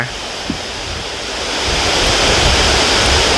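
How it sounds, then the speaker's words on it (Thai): Water rushing through a sluice gate roars steadily, a broad continuous torrent that swells slightly louder partway through, with no voices. "น้ำไหลลงมา"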